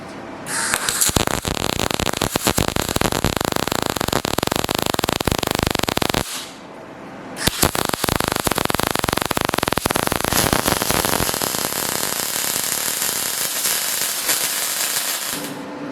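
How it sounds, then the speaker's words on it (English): Full welds laid on a rat rod silencer: loud, steady crackling and sizzling arc noise runs for about six seconds, stops briefly, then resumes and continues to the end. "I'm going to just now start and doing the full welds"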